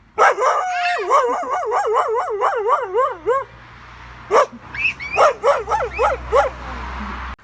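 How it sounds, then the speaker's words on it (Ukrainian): A dog yelps and howls in wavering cries, then breaks into a series of quick, loud barks close by. "Собака!"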